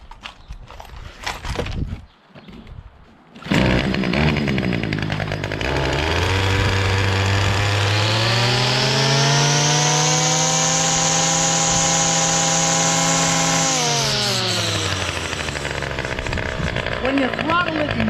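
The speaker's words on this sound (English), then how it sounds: "my Ryobi Weed Whacker / edger. It's the CS30 Start Plus. Works pretty good. Starts up well and it idles too" A Ryobi CS30 gas weed trimmer fitted with an edger attachment rattles through a pull start, then its small two-stroke engine revs up to a loud steady whine and settles back down.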